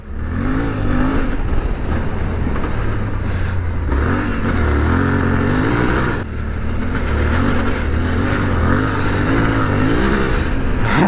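A Suzuki V-Strom 800DE motorcycle engine revs hard up close, its pitch climbing and falling in repeated surges, with a brief dip before it roars again.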